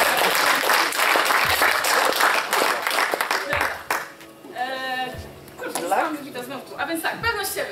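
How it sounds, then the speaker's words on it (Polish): Loud audience applause at a live Akademia Milionerów event fills the first few seconds, then thins out as a voice talks over the fading claps. "Jeszcze raz brawo!"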